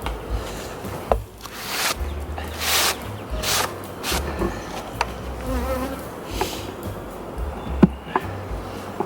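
Many honeybees buzz steadily around an overwintered hive being split, a dense droning hum with individual insects passing close, occasional light knocks and clicks underneath.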